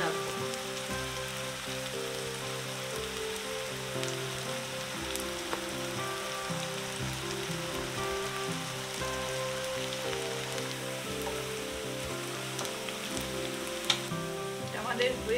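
Onions fry in hot oil until brown, making a soft, continuous, rain-like sizzle with faint crackles, fairly quiet and steady throughout, with no one speaking.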